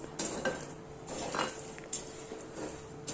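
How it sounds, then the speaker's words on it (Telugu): Chickpeas roast in hot salt in a pan while being stirred, giving gritty scraping sweeps and light metallic clinks of the spoon in irregular bursts, close by and moderately quiet. "ఉప్పు బాగా వేడెక్కిన తర్వాత అందులో కొద్దిగా శనగలను వేసుకోవాలి. వేసుకొని ఈ విధంగా కలుపుతూ ఉండాలి."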